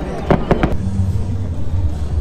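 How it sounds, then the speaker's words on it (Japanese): Fireworks bursting outdoors up close, three sharp cracking bangs in quick succession early on, then a low rumbling tail, with people exclaiming faintly nearby. "すごい花火上がった"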